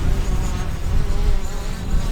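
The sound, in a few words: buzzing insect flying overhead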